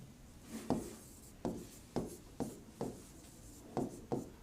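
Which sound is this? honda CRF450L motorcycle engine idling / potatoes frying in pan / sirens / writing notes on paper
writing notes on paper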